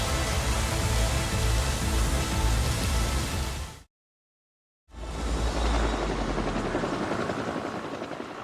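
A firefighting helicopter passes overhead during a wildfire, its loud, dense rotor roar filling the scene, breaking off abruptly for about a second, then resuming just as strong.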